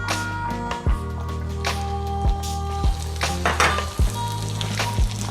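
Onions frying in a pan with chicken make a steady close sizzle, broken by several sharp clanks and scrapes as the mixture is stirred, with no talking.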